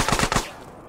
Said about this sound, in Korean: 이 거지같은 게임 인간적으로 총소리는